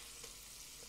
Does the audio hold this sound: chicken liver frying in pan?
yes